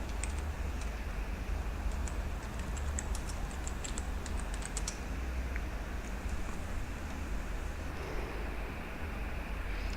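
Light, quick keyboard taps typing a plugin search in WordPress, faint and close, clustered in a short burst under a steady loud hiss of background noise.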